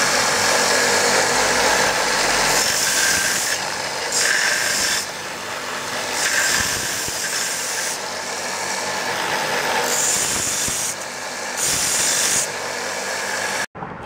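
A power sander grinds against a cast metal gearbox casing, a loud steady rasping that comes and goes in bursts as the piece is pressed on and lifted, ending with an abrupt stop.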